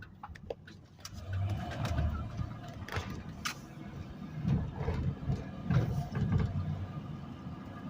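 A pigeon coos nearby outdoors, soft repeated low calls over a steady background rumble of traffic and scattered clicks and knocks.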